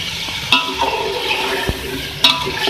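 Beef, potatoes and rice cooking together in a pot, stirred with a loud, continuous wet churning and bubbling, broken by a few sharp clacks of the spoon against the pot.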